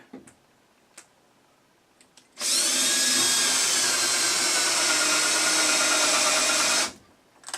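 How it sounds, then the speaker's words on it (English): A power drill pre-drills a hole in a wall, whining steadily for about four seconds at close range, starting and stopping abruptly, with a few light clicks before it. "So I'm gonna pre-drill"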